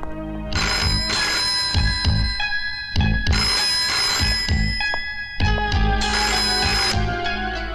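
A telephone rings in three long electronic bursts separated by short pauses, loud and close, with no one speaking.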